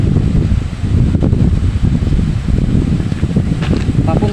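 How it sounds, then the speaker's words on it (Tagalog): Loud, gusty typhoon wind from Typhoon Odette roars and buffets the microphone nonstop, with a few faint higher clinks partway through. "ang lakas din at this moment, ang lakas din ng hangin"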